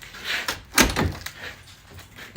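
A door on a framed upper cage build swings shut with a solid thump near the middle, with lighter knocks and rattles of the frame before and after.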